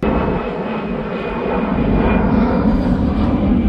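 An airplane engine roars steadily near an airport in Billund, Denmark, a loud continuous rumble that swells slightly toward the end with a thin high whine on top.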